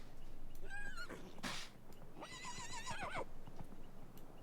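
Horses neighing in a video game, two shrill whinnies a second or so apart, heard over a faint steady background with a soft thump between them.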